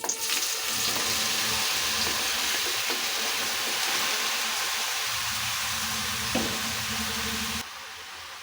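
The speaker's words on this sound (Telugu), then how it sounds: "ఇందులోనే బీరకాయ ముక్కలు వేసేసుకుందాం" Ridge gourd pieces dropped into hot oil with garlic and cumin, a dense steady sizzle running nearly the whole time with scattered stirring knocks, near and loud, then cutting off abruptly at the end.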